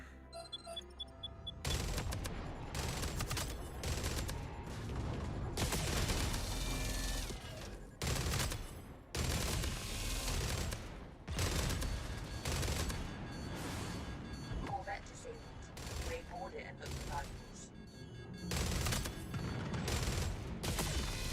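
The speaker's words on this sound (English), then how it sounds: "The splintering shell assault turrets just feel so good." Splintering shell assault turrets fire in a space combat game: loud, dense bursts of rapid gunfire roll on nearly without pause, broken only by brief gaps.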